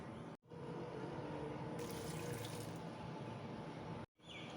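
Water pours steadily into a metal pressure cooker holding mutton, a constant close splashing rush broken by two abrupt cuts.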